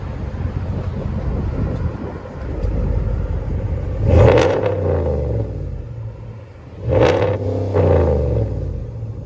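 A Hemi V8 with aftermarket exhaust tips idles with a steady low rumble, then rises in two loud revs a few seconds apart, each dropping back to idle.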